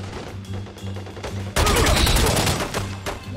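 Rapid bursts of assault rifle fire, a modified AK-74 style weapon, in The Godfather 2 during an assault in Cuba; a loud, dense fusillade erupts midway over earlier game sounds and continues steadily before easing.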